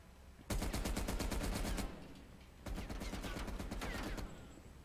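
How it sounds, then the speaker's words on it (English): Rapid automatic weapon fire in a video game, two sustained bursts of loud, rhythmic repeated blasts separated by a short pause, close and harsh with no talk over them. "That's a rocket launcher."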